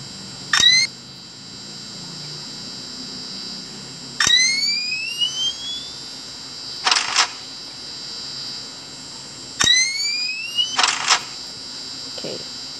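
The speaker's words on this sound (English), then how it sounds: "I think the jump scare sounds are back." Jump scare sounds from the horror video game Five Nights at Candy's come as sharp rising electronic chirps and clattering bursts, repeating three times over a steady high droning hum.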